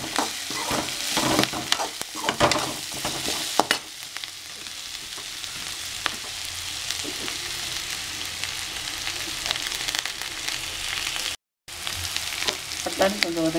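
Green peas sauté in a pan for aval kichadi, flattened rice, with a loud close sizzle and scraping stirs, busier at first and then a steadier fry with a brief dropout near the end.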